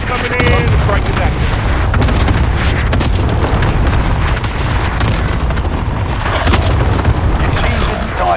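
Cluster airstrike explosions in a video game roll together into a loud, continuous, booming rumble, with dense blasts filling the whole stretch and a voice faintly audible beneath.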